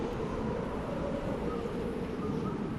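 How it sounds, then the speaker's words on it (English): Wind blowing in the video game Dragon Age: Inquisition, a steady low rushing roar that holds even and unbroken throughout with no talking. "It's also windy."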